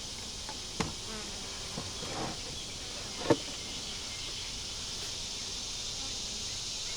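Honeybees hum steadily on top of the frames of a deep eight-frame hive, a soft continuous buzz with a few faint knocks.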